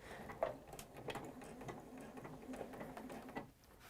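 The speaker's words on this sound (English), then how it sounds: "I'm going to stitch that down" Sewing machine stitching fabric, a quiet rapid patter of needle strokes in short uneven bursts, close but faint, with no talking.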